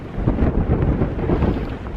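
Wind buffets across the open shore of Llyn y Fan Fach, a mountain lake in the western Brecon Beacons, at a morning wild camp. It forms a steady, loud rumbling roar of gusts hitting the microphone for the whole stretch, with no talk.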